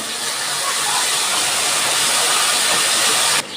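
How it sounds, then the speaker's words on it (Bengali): Spices sizzle loudly in a pan after a splash of water goes in, a dense, close, steady hiss and crackle that holds, then dips slightly at the end. "আমি মশলা কষানোর জন্য একটু জল দিয়ে দিচ্ছি।"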